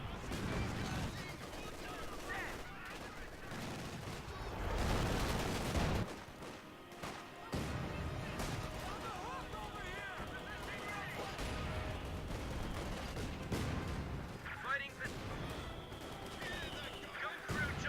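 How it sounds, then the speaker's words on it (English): Mortar barrage and machine gun fire in Company of Heroes 2: repeated booming blasts and rattling gunfire that keep recurring, with someone speaking over the battle. "So because I know he has a machine gun there, I'm just going to put my mortar team right here."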